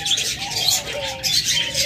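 Pigeons kept in pairs in a loft, the birds sitting on eggs, give soft, close coos with light chirping layered over them, a steady murmur of calls with no talk.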